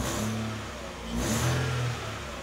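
A cold four-cylinder Mercedes E-Class engine runs just after a cold start, a steady close hum with a slight swell in revs midway before it settles back.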